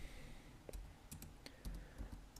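Quiet typing on a computer keyboard while entering code, a handful of light, irregular key clicks with short pauses between them, close and soft against a faint background hum.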